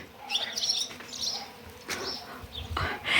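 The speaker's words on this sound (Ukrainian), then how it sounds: "А ось послухайте, як гудуть бджілки із самого ранку." Bees buzz in the early morning outdoors, a close droning hum mixed with chirping birds, including swallows, in short bursts; no talk.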